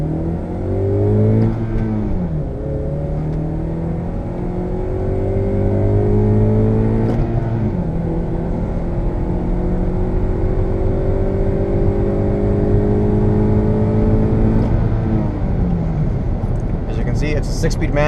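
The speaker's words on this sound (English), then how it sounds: "It's a 6-speed manual. It drives very well. Has power all the way up to the red line." A 2005 Acura TSX with a 6-speed manual accelerating uphill, its engine note climbing through the gears with audible shifts, loud and steady from inside the car, and a voice briefly talking over it.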